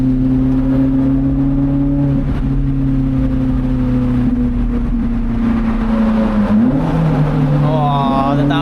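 A car engine on a winding mountain pass drops through the gears, its loud, steady drone shifting pitch as it downshifts and then revs back up, close to the microphone.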